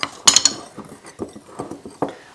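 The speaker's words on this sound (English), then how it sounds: "I'm going to just mix this up a little bit with my wire whisk." A wire whisk stirs cocoa in a bowl, giving quick metallic clinks and scraping taps against the bowl's side in an uneven rhythm, close and fairly clear with no voices.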